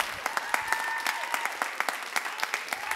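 Church congregants clap in a fairly regular rhythm during worship, with distinct claps standing out against a bed of crowd noise and a voice faintly carrying over them.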